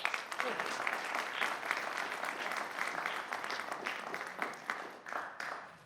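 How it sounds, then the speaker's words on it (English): Warm audience applause at a university presidential lecture honoring the Dossett family, a fairly quiet, steady patter of many hands that thins out toward the end. "Please join me in giving them a warm ETSU round of applause."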